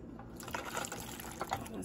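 Alfredo sauce pours into a pan with a thick, liquid gurgling and splashing, close and moderately loud, heard through a steady background hiss.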